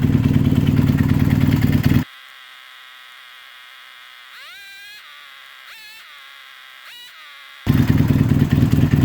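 A motorcycle engine after carburetor work, loud and steady at the start and end, with a quieter middle stretch where a faint engine whine rises and falls in several short revs.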